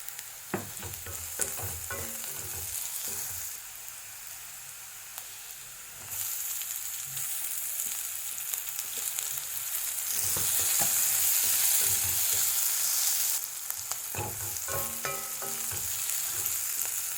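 Sliced onions fry in a pan with a little salt, giving a steady close sizzle broken by repeated scraping and stirring strokes, with brief louder bursts and no talking.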